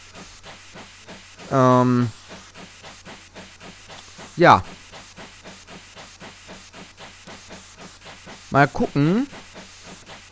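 A steam locomotive in Train Simulator 2015 hisses steadily as its steam pressure refills, a continuous pulsing hiss with someone speaking briefly over it at a few points.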